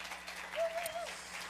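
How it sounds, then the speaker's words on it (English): Applause from a live studio audience at a Tennessee songwriters competition in Bristol, a steady, fairly quiet wash of clapping that holds through the whole short stretch with no voices over it. "How about a big round of applause for all of our artists so far?"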